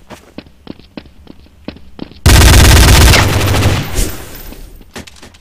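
Unsilenced gunfire in Counter-Strike: Source, loud sustained automatic bursts breaking out after a few quieter footstep-like thumps, rapid shots pounding continuously for about a second and a half before tapering into scattered echoes.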